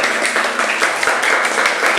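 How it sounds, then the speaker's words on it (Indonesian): Classroom students clap for group one, a steady close round of many hands patting together for about two seconds. "Tepuk tangan untuk kelompok 1 semuanya."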